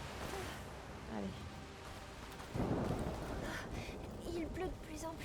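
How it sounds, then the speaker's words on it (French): Rain and a thunderstorm in the video game A Plague Tale: Requiem, a steady wash of rainfall with a low rumble of thunder swelling midway through, heard under soft game sounds and a voice. "Il pleut de plus en plus fort. C'est rien, c'est juste un orage."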